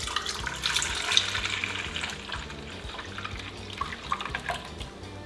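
Liquid poured into a container while making butter at a homestead kitchen, a steady watery splashing and trickling, fairly close and moderately loud, with clinking and light kitchen noises alongside.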